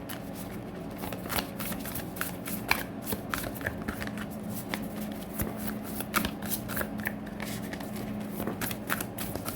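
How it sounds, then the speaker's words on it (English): Tarot cards being shuffled by hand, a steady run of quick riffling and papery slaps close up, continuing without pause for several seconds with no talking. "So let's get this shuffled out here."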